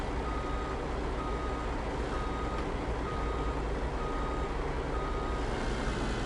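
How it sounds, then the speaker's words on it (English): Truck reversing alarm in Farming Simulator 19, a steady repeating beep while the truck backs blind out onto a road, heard over a constant broadband engine and road rumble with no talk. "Really a case of backing out blind on the road."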